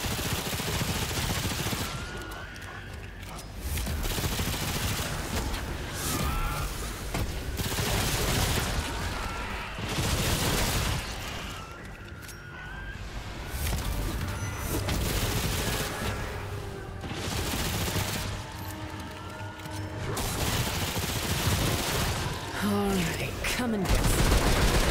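Pistol gunfire in the video game Remnant 2, played on hardcore mode, comes in rapid, repeated volleys over a loud, dense, continuous game soundscape. The shots land in irregular bursts throughout.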